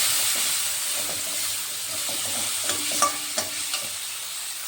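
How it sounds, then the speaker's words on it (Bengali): Chopped capsicum added to masala frying in oil for a paneer dish, giving a steady sizzle with a few clinks and stirring scrapes near the end, close and without speech. "এই পর্যায়ে দিয়ে দেব কেটে নিয়েছিলাম ক্যাপসিকাম।"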